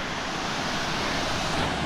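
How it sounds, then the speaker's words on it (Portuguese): The Cachoeira das Andorinhas waterfall roars as a broad, constant rush of water, loud and close, with wind buffeting the mic and no talk. "essa é a Cachoeira das Andorinhas"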